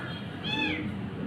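A house cat meows once up close, a short rising and falling call that stands alone against faint room noise.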